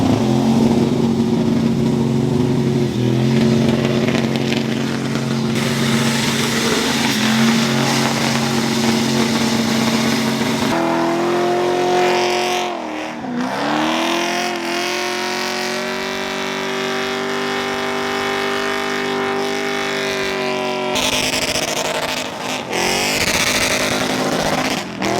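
A 700-horsepower go-kart does burnouts on a road at night, its engine roaring continuously and loud at close range with shifting revs and a steady rasping tone through the whole stretch.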